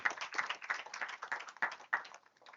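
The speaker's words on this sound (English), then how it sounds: "May I invite our guests from the floor to give a round of applause to them" A small group of guests at an arts event gives a round of applause, with distinct individual claps in a loose rhythm, fairly close and moderately quiet, thinning out toward the end.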